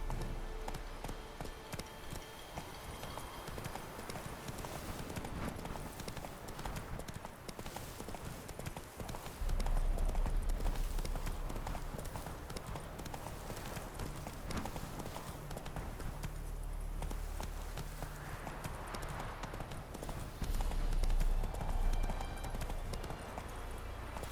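Roach the horse gallops in The Witcher 3 video game, hooves clip-clopping in a steady rapid rhythm under busy game ambience and music, moderately loud throughout with no talk.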